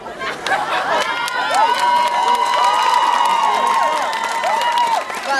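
A school graduation crowd cheers and claps steadily for several seconds, with whistles and shouting voices layered over a dense, fairly loud wash of applause.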